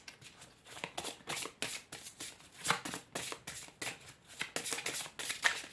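Tarot cards being shuffled by hand for a reading, a faint, close run of rhythmic riffling and flicking bursts repeating for several seconds.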